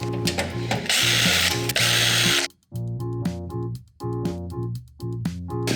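A power screwdriver or drill undoes the screws holding the side panel of a desktop computer case, a steady whirring motor running in short bursts with brief pauses between them, close and fairly loud.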